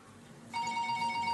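A telephone starts ringing abruptly, a steady electronic ring tone repeating close by after a quiet moment.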